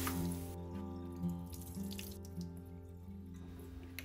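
Home-grown garden vegetables rinsed and rubbed under a running kitchen tap, a steady close stream of water with soft splashes and drips, no talking.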